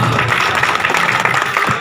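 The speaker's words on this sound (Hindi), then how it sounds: "मैं चाहूंगा एक बार जोरदार अपने पूरे गांव के लिए तालियां बजाएगी" Crowd at a village gathering in Pali claps together, a dense, steady wash of applause with no pauses, fairly loud and close throughout.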